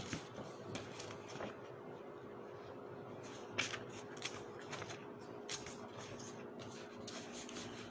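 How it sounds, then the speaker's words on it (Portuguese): Soft papery rustles and brushing sounds, close and faint, with occasional light flicks of turning pages over a low background hum. "estou aqui já com o livro, folheando ele"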